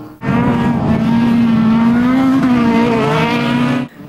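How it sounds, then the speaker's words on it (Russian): A demolition derby race car roars at high revs, a loud, sustained engine note with a rising and falling whine held close for several seconds before cutting off abruptly. "Гул моторов, визг тормозов и море адреналина."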